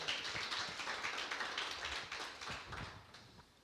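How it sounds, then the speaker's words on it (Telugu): An audience at a Telugu Christian Bible teaching session claps loudly, giving a dense, steady patter of hand claps that fades slightly toward the end; no talking. "గట్టిగా చప్పట్లు కొట్టొచ్చా?"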